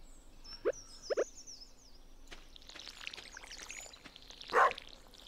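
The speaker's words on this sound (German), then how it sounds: "Gießen. Gießen." Short pouring splashes from a watering can wetting crops in Stardew Valley, three quick trickles early on and a fuller pour near the end, heard alone against quiet farm ambience.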